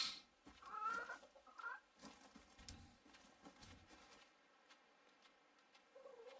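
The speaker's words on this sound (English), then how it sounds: "Ah, chicken." Chicken clucking in the video game Reka, a few short bursts near the start over a quiet background, with faint rustling game ambience fading out toward the end.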